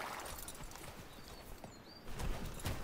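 Horse hooves clopping in a quick rhythm with a faint whinny, clear and up close, no voices, from the video game Gun.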